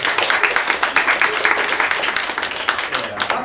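Applause at a public signing ceremony and press conference for a pro-wrestling singles match: dense, continuous clapping from a crowd, loud and close, with faint voices mixed in.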